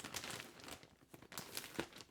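A plastic bag holding individually wrapped merchandise crinkles in short, faint, irregular bursts at close range, with no talking.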